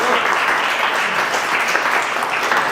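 An audience in a room applauds a talk speaker at the close of a presentation on Bayesian Additive Regression Trees; a steady, even wash of many hands clapping without talk.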